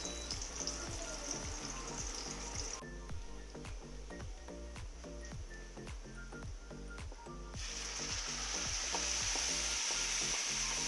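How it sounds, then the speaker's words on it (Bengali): Onion and garlic fry in soybean oil with a constant close sizzle, broken by a steady rhythm of stirring scrapes across the pan, and no one speaks. "দেন এটাতে সয়াবিন তেল দিয়ে তারপর পেঁয়াজ রসুন এসব দিয়ে ভেজে"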